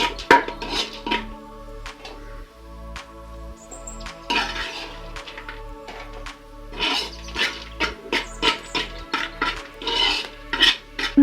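A metal spoon scrapes and clinks against a pan while fried coconut pieces and ginger are scooped out for a ginger pickle, with repeated rhythmic scraping strokes and a low steady hum underneath.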